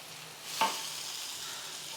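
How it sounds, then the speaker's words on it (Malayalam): Spices and meat masala sautéing in oil give a faint, steady sizzle with one short stirring scrape, with no talking. "ഇത്രയും ചേർത്തിട്ട് നന്നായിട്ട് വഴറ്റണം നന്നായിട്ട് വഴറ്റി എണ്ണ തെളിഞ്ഞു വരണം"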